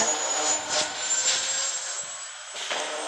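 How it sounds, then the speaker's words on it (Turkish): A helicopter escape in the Granny Chapter 2 video game gives a steady mechanical rotor and engine drone with a high whine, holding evenly for a few seconds with brief bursts on top. "Granny helikopterle kaçış gerçekleştiriyoruz arkadaşlar"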